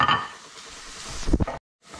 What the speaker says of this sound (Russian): Добавляем к луку морковь и обжариваем 2 минуты.